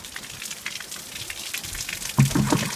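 Rainwater patters and trickles into a 5-gallon bucket, soft scattered drips at first, then a louder gush of splashing near the end.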